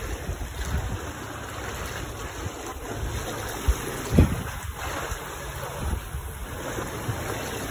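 Rushing floodwater from a severe flood sweeping past vehicles, a steady broadband roar of churning water with a few brief louder splashes, heard alone without talk.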